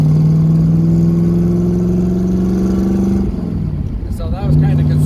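A car engine revs loud and close as the car accelerates on a drive, a steady climbing drone that drops off around a gear change, then picks up again.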